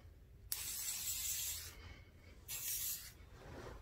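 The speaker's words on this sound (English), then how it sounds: "finish it off with some finishing spray" Two long hissing bursts of hair finishing spray from an aerosol can, the first about a second long, a brief pause, then a second shorter spray, close by.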